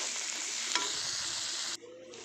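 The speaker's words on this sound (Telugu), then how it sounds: "సో టమాటా మొత్తం మగ్గిపోవాలి, స్కిన్ అనేది రిమూవ్ అవ్వాలి, అంతవరకు వేయించాలి ఫ్రెండ్స్" Tomatoes fry in oil in a pan with a loud, steady sizzle and one brief scrape of a spatula being stirred through, then the hiss drops abruptly near the end.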